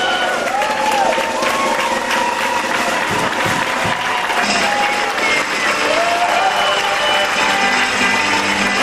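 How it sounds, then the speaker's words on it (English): Wedding guests applaud bridesmaids and flower girls at a reception, with steady loud clapping and crowd noise throughout and some cheering mixed in. "please rise up out of your seats and give them a great big round of applause"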